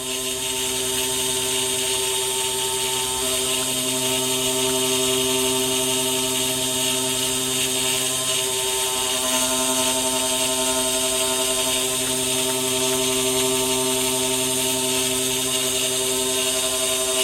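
High-speed drill mounted in a milling machine boring a half-millimetre hole through brass, its motor running near 5,000 rpm as a steady, loud, high-pitched whine with constant tones throughout.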